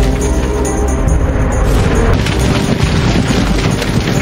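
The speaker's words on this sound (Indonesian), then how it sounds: "Singlong langsung meledakkan bom yang membuat mereka menjadi panik dan saling adu tembak sesama pasukan Xuanwu." A bomb blast in an action film set among fighting soldiers, heard as a loud, continuous rumbling roar with deep booms and crackling debris that fills the whole stretch.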